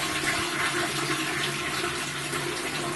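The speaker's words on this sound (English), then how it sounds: "being flushed down a lava toilet" A lava toilet flushing in the video game Soul Cauldron, a steady rushing, gurgling water swirl that stays loud and even for about three seconds, with a slight swell at the very end.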